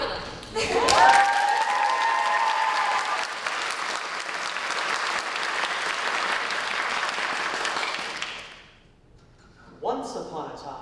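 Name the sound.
audience applause for a school theater cast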